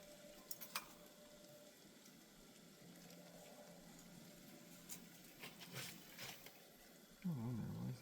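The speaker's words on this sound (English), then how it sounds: "We got our meat cooking up here and our pasta." Ground meat fries in a pan for spaghetti sauce, giving a faint, steady sizzle with occasional light clatter and a louder burst of frying near the end.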